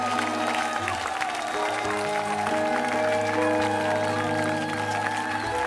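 A church congregation applauds Jesus in sustained, steady clapping, with a held musical tone and crowd voices underneath throughout.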